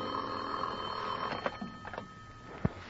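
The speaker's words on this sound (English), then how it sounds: "was almost asleep when my phone rang" An old telephone bell rings in a 1950 radio detective drama, a few faint rattling rings over a steady background hum, with a sharper clack near the end.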